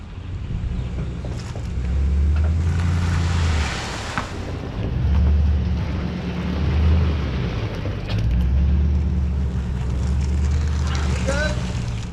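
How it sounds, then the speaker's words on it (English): A 1959 Chevy Apache truck engine revs in repeated low, droning surges outdoors during a chassis swap, rising and falling over steady wind noise, with people talking nearby. "Back up just a little bit and gun it."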